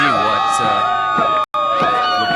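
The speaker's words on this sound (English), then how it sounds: "The near capacity crowd here at Biola University in La Mirada, California." A near-capacity crowd at a Biola University game in La Mirada, California, cheering and whooping in a steady roar, with a commentator talking over it and a brief dropout midway.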